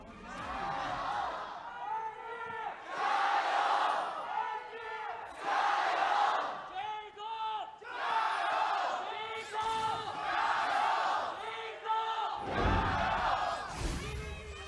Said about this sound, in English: It's the loudest we've heard from the Jingdong crowd